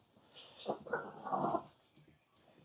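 Dogs whimper and whine in a few short, plaintive bursts at close range, with some low growly noise mixed in and a voice faintly present in the background.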